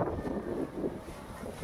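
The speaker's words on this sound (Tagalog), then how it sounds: "Sarap ng hangin, oh." Wind gusts across a seaside boulevard lined with coconut palms, a steady broadband rush with soft swells and dips, close to the microphone and with no voices.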